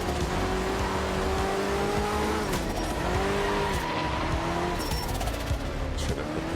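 A racing car in a video game spins under acceleration, its engine droning steadily while the tires squeal in wavering pitches throughout.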